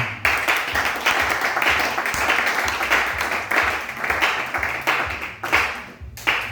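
Church congregation clapping together in praise, dense rhythmic applause that stays loud and steady throughout with little talk.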